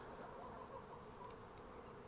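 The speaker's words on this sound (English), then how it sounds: "Bees flying all around me." A large swarm of honeybees hums steadily around a backyard hive. The buzzing is dense and even and fills the whole stretch, with no voices.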